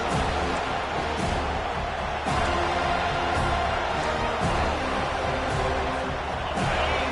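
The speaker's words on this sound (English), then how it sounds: "This crowd trying to make life miserable for this offense." Stadium crowd at a college football game between Oklahoma and FSU roars in a dense, continuous wash of noise, with recurring swells of cheering and whoops over distant commentary.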